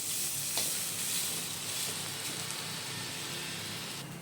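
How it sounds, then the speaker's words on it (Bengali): Ground spices frying in oil for a winter vegetable chorchori of beans, radish, eggplant and potato, a quiet, even sizzle and hiss with occasional light stirring taps, close up and uninterrupted. "তাই আমি মশলাগুলোকে একটু ভেজে নিচ্ছি"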